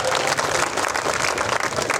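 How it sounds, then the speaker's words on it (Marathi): Steady, dense applause from a large crowd, continuous and fairly loud throughout with no pauses. "त्यांच्यासाठी आपण जोरदार या ठिकाणी टाळ्या वाजवूया"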